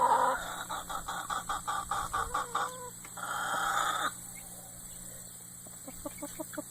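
Hens cluck in a steady run of short, throaty bursts, close by, then pause and finish with a quicker string of softer clucks.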